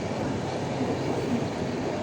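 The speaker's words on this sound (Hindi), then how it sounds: "अभी यहाँ से मेल एक्सप्रेस ट्रेन क्रॉस हो रही है।" A mail express train passes through Kurla railway station in Mumbai, a loud continuous rumble and rush of rolling stock close by, steady throughout without distinct pauses.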